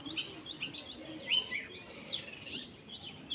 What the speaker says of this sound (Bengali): নিশ্চয়ই পাখির ডাকও শুনতে পাচ্ছেন